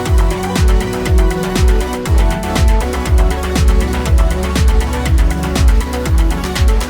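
An electronic EDM drop from a song, built on a steady pounding kick drum with pitch-dropping bass hits, layered with auto-tuned "ooh ah" vocal chops. It is loud and continuous, with no talking.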